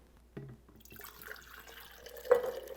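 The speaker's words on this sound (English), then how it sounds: "this is just tap water from my sink" Tap water from a kitchen sink is poured, heard as a few quiet, short splashes and drips with a slightly louder splash near the end.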